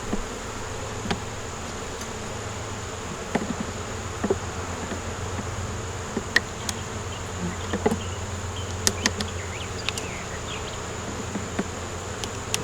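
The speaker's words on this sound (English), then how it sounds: "Just watch the bees." Steady droning buzz of many honey bees close by, with occasional sharper passes of individual bees over the continuous hum.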